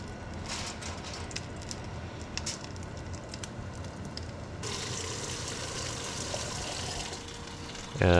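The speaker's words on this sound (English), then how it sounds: "Just put down a half or a quarter ladle of water." Water poured into a hot pan of pork and chive dumplings, a rough hissing gush that jumps to a louder steaming rush partway through, with a sharp clatter at the end.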